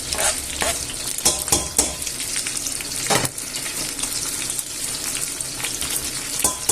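Garlic and chorizo brown in a hot pan for a Spanish-style chicken, chorizo, chickpea and potato soup, giving a steady, close crackling sizzle with a few sharp spatula knocks and stirring scrapes.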